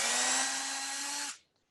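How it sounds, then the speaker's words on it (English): A power drill whirs steadily as it drives a bolt into 3D printed plastic threads, a loud continuous motor whine holding for over a second before cutting off abruptly into near silence. "I'm just going to go ahead and start drilling"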